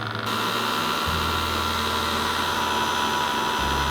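A mixer runs at maximum speed whipping a blackcurrant marshmallow mass, giving a loud, steady motor hum and whir that shifts pitch slightly partway through, with no voices.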